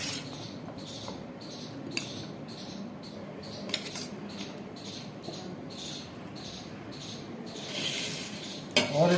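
Chana chaat being spooned from a dish onto a plate, with soft scraping and light clinks of a spoon against the dishware at an unhurried pace, close and fairly quiet, with a louder clatter at the end.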